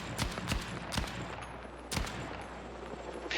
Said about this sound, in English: This is what it looks like with that light machine gun.